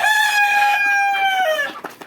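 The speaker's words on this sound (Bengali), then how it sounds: "দেখতে পাচ্ছেন এগুলো মুরগি।" A tiger-breed rooster on a chicken farm crows loudly and close in one long drawn-out call that tapers off, followed by a few clucks from nearby hens.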